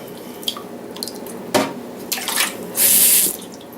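Water is poured and splashed over metal coated with a superhydrophobic treatment, heard as a few scattered drips and small splashes, then a louder, brief gush of running water near the end.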